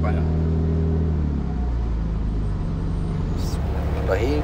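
A Tuksedo Studio 300 SL Gullwing replica car drives and turns left, its engine and road noise making a steady low rumble heard from inside the cabin, with brief spoken words over it.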